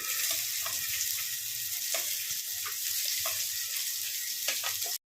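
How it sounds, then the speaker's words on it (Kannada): Finely chopped onions frying with cumin and dry red chillies on a low flame, a dense continuous sizzle with light occasional stirring taps, close and steady until it cuts off abruptly. "ಈರುಳ್ಳಿನ ಚೆನ್ನಾಗಿ ಹುರ್ಕೊಬೇಕು"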